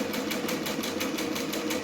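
A sewing machine runs close by in a quick, even rhythm of stitches for just under two seconds, a steady mechanical whir with regular needle beats and no talk.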